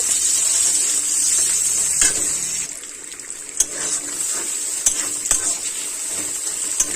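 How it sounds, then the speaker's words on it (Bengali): Onions frying in a pan with a steady sizzle, broken by several clear stirring knocks and scrapes. "পেঁয়াজ খুব ভালোভাবে ভেজে নেব"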